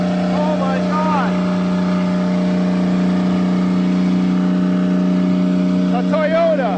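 A Toyota car abandoned for seven years in a forest runs with its throttle stuck, holding a loud, steady high-revving drone throughout while voices briefly cry out near the start and end.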